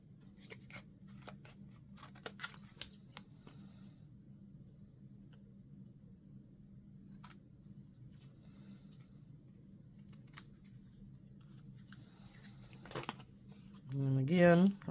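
Scissors snip through playing cards being cut apart for paper-craft ephemera, a run of small crisp cuts close by over a low steady hum, with a brief voice near the end.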